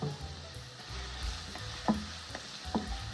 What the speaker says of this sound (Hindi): बिल्कुल हल्की आंच पे हल्का सा फ्राई होने देंगे लहसुन अदरक को